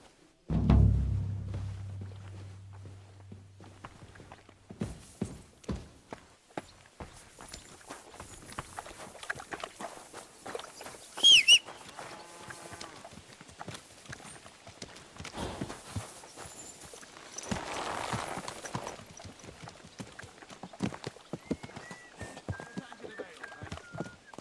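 A horse in the video game Kingdom Come Deliverance 2 walks with a steady clip-clop of hooves, a rhythm that carries on throughout while voices speak over it now and then.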